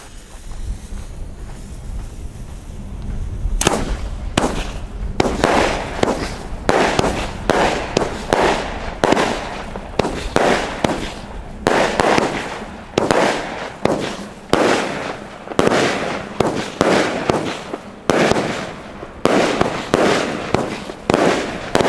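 An Argento Pyroshow 1000 Palermo fireworks battery, 20 and 25 caliber with about 1 kg of net explosive mass, fires a steady run of sharp, loud bursts and crackling shots one after another, with no talking.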